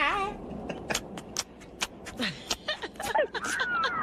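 A man's mouth imitates a dry mouth sucking on teeth, making a quick series of wet clicks, smacks and tongue pops, close and fairly quiet, with a little breathy vocal noise mixed in.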